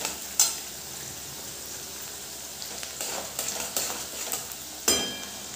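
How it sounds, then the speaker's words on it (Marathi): Sliced onion frying in oil for a spicy besan made from ground chana dal, giving a steady soft sizzle with stirring. A few sharp clinks of a utensil against the pan come through close by. "आता आपला कांदा शेकतोयच आहे"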